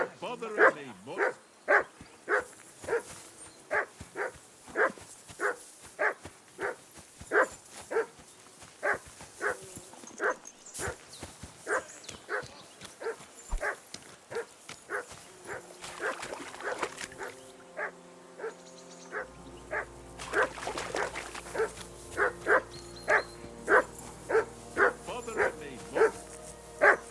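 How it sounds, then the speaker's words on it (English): Repeated dog barks from a mutt in the video game Kingdom Come: Deliverance 2, a steady rhythmic series of loud close barks continuing through the clip, with game ambience and character voices talking in between. "Do something with that mutt, Henry."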